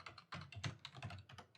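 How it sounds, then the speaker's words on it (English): Rapid typing on a computer keyboard, close and distinct, with irregular bursts of key clicks and clacks and no talking over it. "Sorry, my typing."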